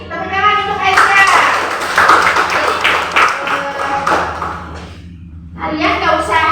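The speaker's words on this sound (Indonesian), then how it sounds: "Tepuk tangan untuk Aisyah." A primary school mathematics class claps in a burst of quick, close handclaps, with children's voices talking over and between the claps. The noise dies down briefly near the end, then the clapping and chatter pick up again.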